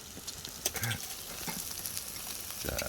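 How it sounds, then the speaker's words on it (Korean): Food sizzles softly on a pan over a fireplace stove at a snowy winter campsite, a faint steady crackle with light clinks and a few scattered taps, no talking. "지글지글 잘 익고 있습니다."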